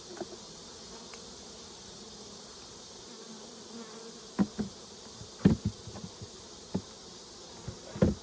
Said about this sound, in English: So most of the honeybees have exited this box here.